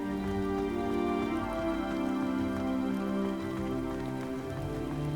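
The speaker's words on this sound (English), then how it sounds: "It's raining." Steady rain falls in the Hogwarts Legacy video game as a continuous, fairly loud patter of drops on surfaces. It stays even and constant throughout, with no talking over it.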